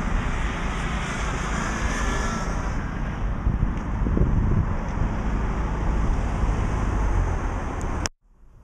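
A steady, loud roar of an airplane engine at an airport carries on for several seconds with wind buffeting the microphone, then cuts off abruptly near the end.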